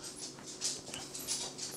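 An excited dog pants and whimpers steadily nearby, with faint high whines rising over a constant low background hum.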